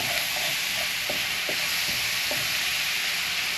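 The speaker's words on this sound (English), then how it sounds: "Now to add my ginger and garlic." Ginger and garlic sizzle in a hot wok for a chicken stir fry, a loud, constant frying hiss with a few soft knocks of stirring throughout.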